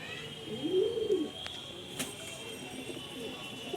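A breeder pigeon in a loft gives one short, soft coo near the start, followed by a faint background hum and a couple of light clicks.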